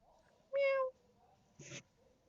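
A person imitates a cat with one clear, drawn-out meow, followed by a second shorter, breathier sound a moment later, close and fairly quiet against a faint background hum.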